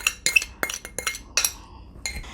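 A utensil mixes liquid ingredients into binangkal flour in a bowl, giving a rapid series of close, bright clinks and scrapes against the bowl, irregular and uneven, with no voices.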